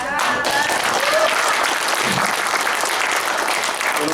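An audience at a political speech applauds steadily, dense continuous clapping from a crowd that stays loud and even for several seconds, with no voices on top.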